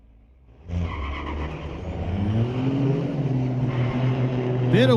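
Diesel trucks launching side by side at a drag strip, a first-gen Ram among them, with loud rising engine roar that builds steadily after a quiet start, ending in a sharp screech; wheel hop is not clearly distinct.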